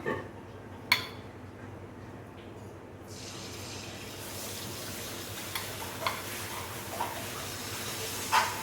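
Appam batter frying in hot oil, a soft continuous sizzle and hiss that swells after the first few seconds, with a few light clicks and taps of utensils scattered over the faint bubbling.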